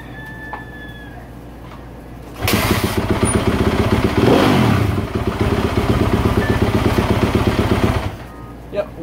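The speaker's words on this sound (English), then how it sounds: "now it should start in one to two kicks now that we have it primed up" Yamaha YZ250F dirt bike, just back from a fuel pump repair, fires up on a single kick and settles into a loud, steady close-range idle with a brief rev, after a few quiet seconds before the start.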